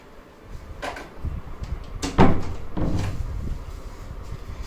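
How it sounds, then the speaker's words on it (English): A door opening indoors in a tense hideout scene, with a short knock-like rattle followed by a louder handle clack and a door swinging open, close by, against a quiet room. "I'll get the door."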